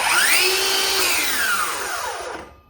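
A Ryobi brushless circular saw blade winds down after release, its electric brake pulling the whine lower over about two seconds before it cuts to silence; loud, close and alone.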